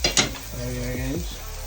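Fried onion and garlic for a lamb samosa filling get a final stir in a pan, with a couple of sharp utensil scrapes at the start, then soft sizzling and shifting, scraping tones underneath.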